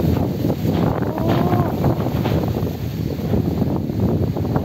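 Dry, gusty wind buffets the microphone outdoors at a Buddhist merit-making gathering, a steady loud low rumble filling the whole clip with faint voices underneath.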